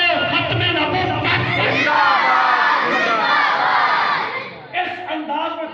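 A large crowd at a religious gathering roars a slogan back in unison, a loud, sustained chorus of voices that swells and then breaks into a second, shorter shout.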